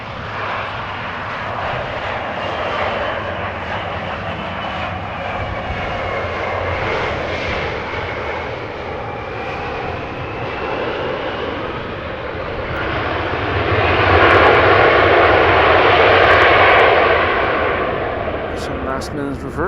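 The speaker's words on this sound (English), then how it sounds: "Last minute reverser action." Airliner touching down at Amsterdam Schiphol Airport, a steady distant jet rumble that swells into a louder roar as the thrust reversers engage near the end, with no one talking over it.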